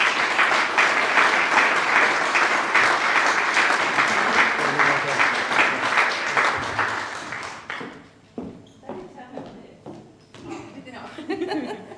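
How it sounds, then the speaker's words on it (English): Audience at a regional volunteer awards ceremony breaks into loud, sustained applause and cheering that fills the room for about eight seconds, then thins into scattered claps and chuckles. "That was a big cheer."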